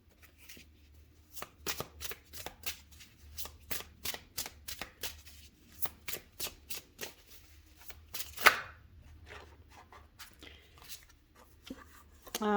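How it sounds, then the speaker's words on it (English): Tarot cards are shuffled over and over in quick, crisp riffling bursts, a steady rhythmic flutter close to the listener with one sharper snap partway through. "No, we're going to keep shuffling because that was way too many."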